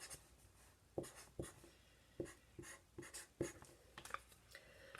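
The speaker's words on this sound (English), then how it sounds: "I'm going to write it both ways so we remember." Pen or pencil scratches on paper while fraction strips are labeled at home, quiet irregular strokes and taps in short bursts with small pauses between, close and soft.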